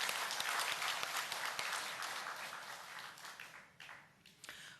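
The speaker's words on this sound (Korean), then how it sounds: "여러분 격려의 박수 다시 한번 보냅니다." Encouraging applause rises from a church congregation during a Sunday service, loud and dense at first, then thinning into scattered individual claps as it fades out.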